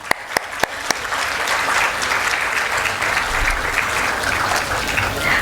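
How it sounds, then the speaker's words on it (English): Applause for parents at an ICSE 2018 felicitation ceremony: a few sharp, separate claps at the start, then steady, dense applause from a large audience that runs without a break to the end. "I think a lot of clapping for the parents is"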